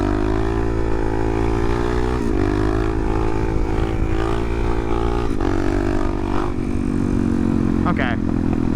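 A motorcycle engine during a wheelie holds a loud, steady, droning note close by, shifting pitch several times as the throttle changes.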